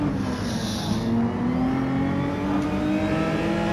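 A race car engine holds full throttle down the Trial Mountain circuit in a racing game, a loud sustained whine with its pitch slowly rising as the car accelerates, no talk.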